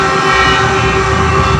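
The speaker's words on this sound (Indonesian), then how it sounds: "kereta api Argo Wilis sudah melintas di depan SMA Negeri 3 Kota Tasikmalaya" Argo Wilis passenger train passing in front of a high school in Tasikmalaya, Indonesia, a loud, close, continuous roar with a steady horn tone sounding throughout.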